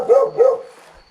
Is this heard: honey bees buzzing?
no